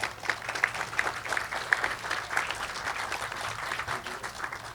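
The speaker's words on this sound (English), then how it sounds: "please give him a round of applause for that amazing discussion." Sustained applause from an audience, a dense wash of clapping hands filling the space without pause, with no voices standing out.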